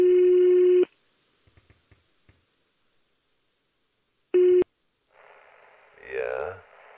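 A telephone in the video game Greyhill Incident rings with a loud, steady electronic tone, falls silent with faint clicks, rings briefly again, then a crackly radio-like voice comes in.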